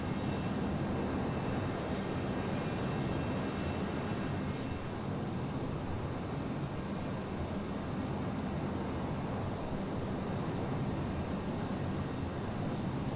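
Steady, low engine roar of a Learjet 35A in flight in Microsoft Flight Simulator 2020, a constant cabin drone with a faint high whine, no talking.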